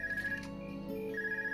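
A phone rings in the Trails of Cold Steel video game, a steady electronic ringtone repeating in even bursts over soft background game music, with no talking.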